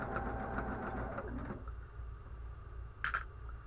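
A sewing machine stitches an origami apron, its fast even whir running close and steady for about a second and a half before stopping, then a brief mechanical clack.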